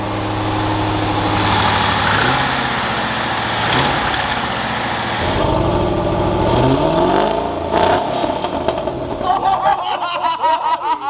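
A rebuilt C5 Corvette engine idles and then revs up in close, loud bursts. Sharp exhaust pops crackle toward the end.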